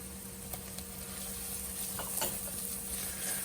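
Steady sizzling of garlic and tomato paste frying in a pan, with a few light stirring scrapes and faint clinks, close up and continuous with no talking.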